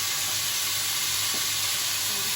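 Rice sautéing in a pot gives a steady, close, loud sizzle with continuous hissing and faint stirring, with no talk over it.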